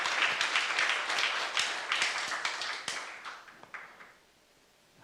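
A church youth congregation claps during a sermon, a few seconds of fairly close, scattered clapping that thins out and fades to near silence.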